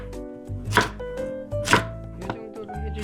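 Knife chopping carrot on a cutting board, four crisp, evenly spaced thuds close by, alone without talk.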